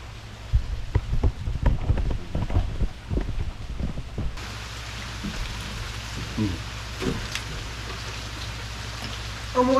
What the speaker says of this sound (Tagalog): Ayan, umuulan, guys. Inabutan tayo ng ulan.